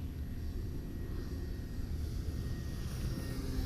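An E-Flite Timber X RC airplane flies in gusty wind, its steady motor drone continuous and fairly faint under heavy low wind rumble, with no voices.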